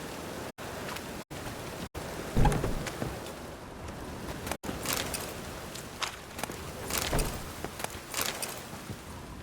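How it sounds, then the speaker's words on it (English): Rain in The Witcher 3, a steady hiss of falling drops with scattered patters and footstep-like thuds, broken by a few short dropouts. "Oh, it rained."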